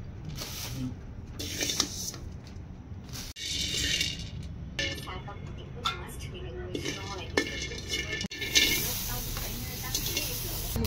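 Rice scrapes and rattles in a dry pan as it is stirred, with soft crackling, occasional clinks, and a voice talking intermittently.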